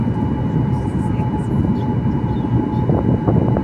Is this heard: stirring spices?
no